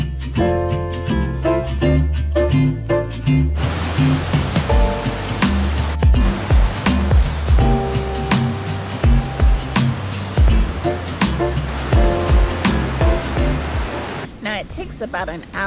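Rushing water at the Jajce water mills, a loud steady broadband roar heard close by, with a person talking and music over it for much of the stretch.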